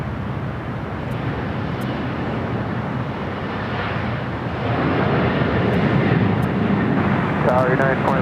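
A heavy United airliner on final approach to land on runway 25 left at LAX, a steady loud broadband engine roar that swells slightly toward the end, heard from nearby with a radio voice over it.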